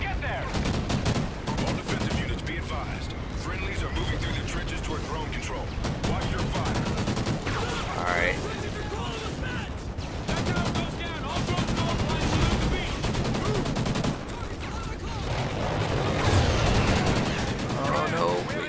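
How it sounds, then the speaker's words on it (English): Heavy gunfire in the Call of Duty: Ghosts campaign: dense, continuous bursts of rapid automatic fire and scattered shots, loud and close, layered over battle noise throughout. "Wow, we're getting shot up bad."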